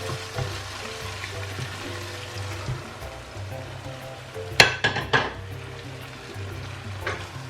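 Sizzling and frying of tomatoes cooking in a pot while blended pepper, onion, garlic and ginger go in, with a short burst of clattering pot and utensil noise near the middle over a steady low hiss.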